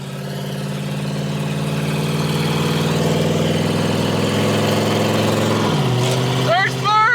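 Twin turbo LS-swapped Foxbody Mustang pulling hard in second gear, a loud close engine roar climbing steadily in pitch, then dropping as revs fall before a sharp whine and turbo flutter at the end.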